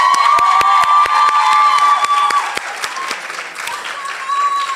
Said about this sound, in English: A bit of clapping, guys.